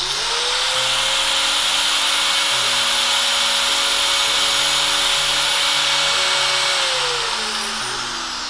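A Hikoki variable-speed angle grinder is run in a function test, spinning up into a loud, steady high whine close by that holds for several seconds before winding down, with no talk over it.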